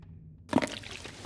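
Water splashes out in a short gush in the survival game The Long Dark, a single brief pour starting after a moment of quiet, fairly close and alone.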